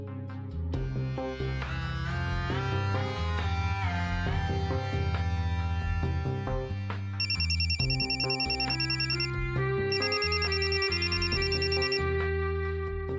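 A telephone rings in two repeated electronic bursts over steady background music, starting midway and continuing to the end.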